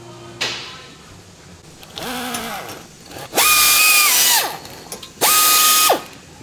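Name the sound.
tool removing Passat brake rotor screw with T30 bit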